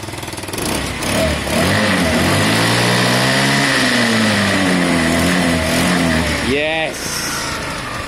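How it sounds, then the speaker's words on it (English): Lexmoto Diablo motorcycle engine revving up and down close by, its pitch climbing and falling in a loud steady drone, ending in a sharp rev burst and quick drop. "Guys, listen to the Lexmoto."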